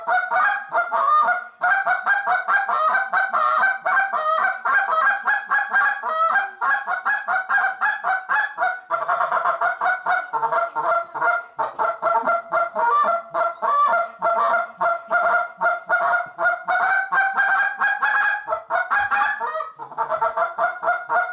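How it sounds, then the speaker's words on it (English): A 100G mag goose call blown by a caller, sounding a continuous run of loud, rapid honks and clucks in steady rhythm, close and alone without talk. "But blow the other call. This is the 100G mag."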